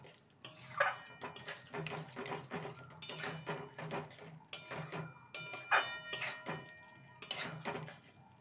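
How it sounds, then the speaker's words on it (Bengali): Spiced pumpkin and potato curry with amchur powder gets mixed in a pan, producing a run of rhythmic metallic scraping and clinking strokes, close and moderately loud. "ভালো করে মিশিয়ে নেব।"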